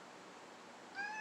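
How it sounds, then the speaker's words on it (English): A cat meows faintly in the background, a thin rising cry near the end of a quiet moment in an indoor room where computer parts are being swapped, with no one talking. "you might hear my wife's cat screaming in the background"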